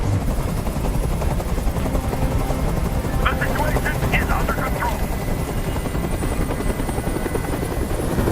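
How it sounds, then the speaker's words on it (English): A video-game helicopter hovering overhead fills the scene with heavy rotor thudding and whine, steady and loud, while a voice speaks briefly over it midway. "Tell that helicopter to get out of here."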